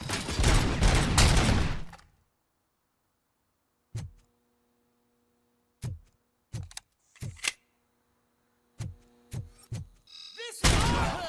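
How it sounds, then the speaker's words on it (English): Gunfire in the RoboCop: Rogue City video game: loud dense bursts at the start and end, with sharp single shots scattered through a quiet stretch between them. "Shoot the freak! Shoot him in the face!"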